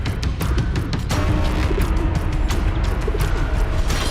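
A pigeon coos inside a Himalayan cave, its soft calls repeating over a steady, echoing rumble of background noise.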